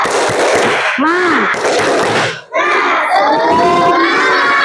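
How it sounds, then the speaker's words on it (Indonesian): Schoolchildren in a classroom shout a spirit clap chant together, loud bursts of massed young voices and claps with a brief pause midway before the chanting resumes. "Kita tepuk semangat."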